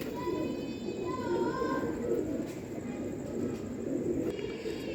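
A Teddy breeder pigeon cooing softly amid steady background noise, with faint tonal chirps and a few short clicks.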